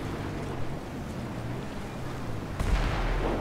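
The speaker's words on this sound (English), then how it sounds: "And we have explosions." A sudden heavy video game explosion booms near the end, in Grand Theft Auto V with the LSPDFR police mod, following a steady low rumble of engine-like background noise.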